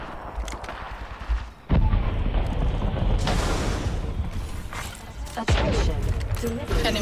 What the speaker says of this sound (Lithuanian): Šūviai.